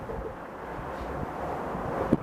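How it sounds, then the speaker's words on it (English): Steady wind rushing and buffeting across the microphone on a very windy day beside a large white pine being climbed, with low rumbling gusts and a brief louder knock near the end. "I'm out on this super windy day"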